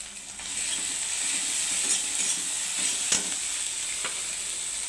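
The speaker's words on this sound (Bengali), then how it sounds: "এটাকে একটু আমি লাল করে ভেজে নেব। দিয়ে দেবো শুকনো লঙ্কা বাটা" Steady close hiss of spice paste with dried chilli paste frying in a pan, with a few soft stirring clicks over the even sizzle.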